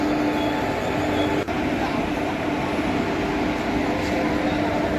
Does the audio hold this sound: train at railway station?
yes